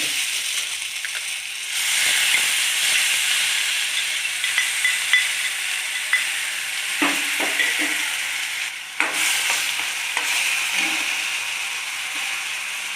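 Garlic and onion paste with turmeric frying in a pan on a gas stove, a loud steady hiss that swells after a soft start, with scattered clinks and scrapes of stirring throughout.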